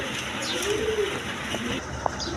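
A male Afsangiri pigeon gives a single low, drawn-out coo over steady background noise at a pigeon market.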